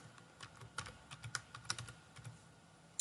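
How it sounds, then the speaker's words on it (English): Light tapping of keys on a computer keyboard, a short quiet burst of irregular keystrokes close to the microphone with no talking. "in the Web Store search box, type DocHub."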